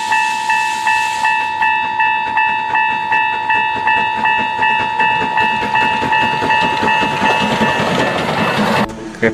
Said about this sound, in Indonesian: Ada kereta api.